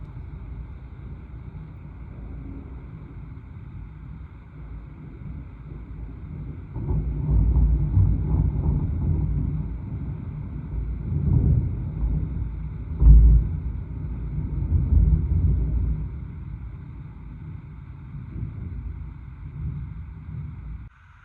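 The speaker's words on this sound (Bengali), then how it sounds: "আজ হাওয়াটা ছিল বেশ ঠান্ডা, আর মারাত্মক পরিমাণে চমকাচ্ছে বিদ্যুৎ আর তার সাথে মেঘের গর্জন" Cold, strong wind in the Netherlands rumbles low and steady, swelling into heavier gusts midway with a deep thudding burst like distant thunder, then settling back to a softer background roar.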